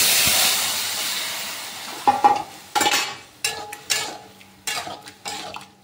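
Panch phoron spices and bottle gourd added to hot oil, a strong hiss that fades, then a series of sharp scrapes and clinks of stirring in the pan with a softer sizzle underneath, close, no voices.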